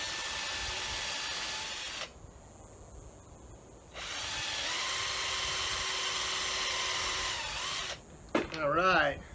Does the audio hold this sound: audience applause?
no